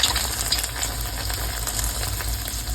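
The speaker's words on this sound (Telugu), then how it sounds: "ఉట్టిగా ఫ్రై అయిపోతాయి బ్రెడ్స్ అయితే." Bread pieces frying in hot oil for double ka meetha give a steady, dense sizzle and crackle that carries on unbroken, close and moderately loud, with no voices.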